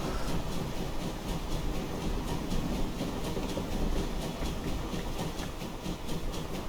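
A steam locomotive, an LSWR T3 4-4-0 in Train Simulator Classic, chuffs in a steady, rapid rhythm under a continuous rumbling rail noise.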